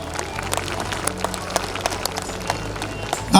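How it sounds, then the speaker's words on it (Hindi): Audience applause at a felicitation ceremony with garlands and shawls for a chief guest, a steady wash of many hands clapping with scattered sharper claps throughout. "जोरदार तालियां हो जाएं।"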